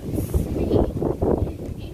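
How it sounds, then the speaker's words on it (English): Steady gusting wind in South Louisiana buffets the microphone with low, rumbling noise that swells and eases throughout, with no voices. "It's very windy down here in South Louisiana"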